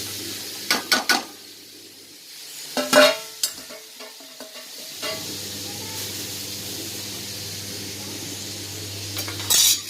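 Shallots, onions and green chillies sautéing in a pan: a low steady sizzle broken by a few sharp clatters and scrapes of a stirring spoon, close by and moderately loud, with no speech.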